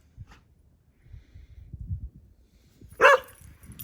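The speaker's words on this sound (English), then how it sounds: "Stop barking." A dog gives a single sharp, piercing bark near the close, after a stretch of faint low snuffling and movement sounds.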